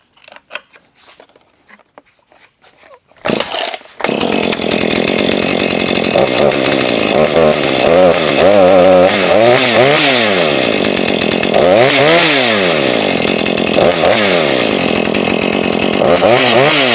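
A Husqvarna 440 chainsaw with a freshly sharpened chain, a saw that will not rev up, fires after a few faint clicks and runs loud and close, its engine revving up and down in repeated surges.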